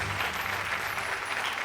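Audience clapping in a round of applause at a Mumbai insurance awareness awards quiz show, steady and dense throughout, a large indoor crowd applauding without pause.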